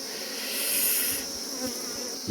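Honeybees hum in a steady, close, moderately loud buzz as a hive colony is being split, the drone swelling briefly and then settling, with no talking.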